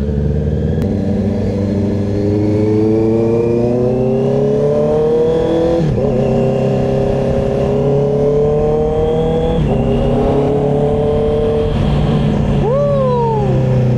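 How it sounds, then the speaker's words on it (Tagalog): A Honda CB650R E-Clutch motorcycle fitted with a new aftermarket exhaust revs loudly and up close, its engine note climbing and dropping through several throttle blips over a steady, rumbling idle. "lumabas din ang bagong tunog ng aking motor"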